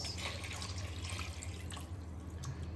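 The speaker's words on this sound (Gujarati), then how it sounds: "અહીં આપણે 2 ગ્લાસ પાણી લીધું છે બટાકા બાફવા માટે" Water poured from a glass into a pressure cooker to boil potatoes, a soft, faint trickle and splash that continues for a few seconds in a quiet kitchen.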